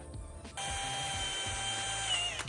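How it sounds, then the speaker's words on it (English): A power drill bores a hole through the bottom of a 5-gallon bucket, a steady whirring grind that starts abruptly after a brief pause and runs on loud and close without letup. "so I drill a hole in the bottom of this thing"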